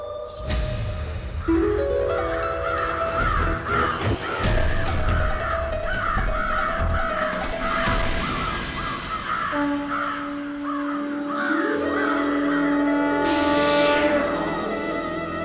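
Crows caw in rapid, repeated bursts throughout a fantasy film scene, loud and close over a droning musical background, with a bright rising sweep near the end.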